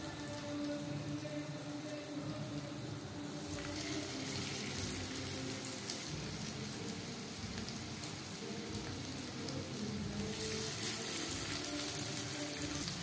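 Marinated chicken frying in plenty of hot refined oil in a pan over high flame, a continuous dense crackling sizzle that stays steady and close for the whole stretch.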